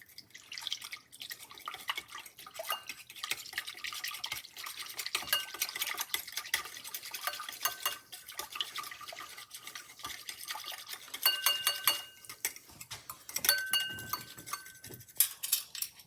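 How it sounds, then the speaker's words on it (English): Honey and warm water are stirred in a bowl, a spoon scraping and clinking lightly against the sides with soft liquid sloshing, faint and close, in an irregular steady rhythm. "I want to give this a stir"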